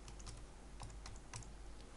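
Rapid, fairly faint clicking of keys on a computer keyboard as a username and password are typed, with uneven keystroke rhythm over steady background hum and no talking.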